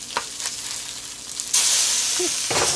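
Salmon and thinly sliced shallots frying in a pan. A soft sizzle suddenly swells into a loud, steady hiss partway through.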